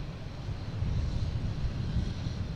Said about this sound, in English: I thought a plane just landed from LAX